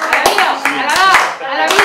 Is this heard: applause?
yes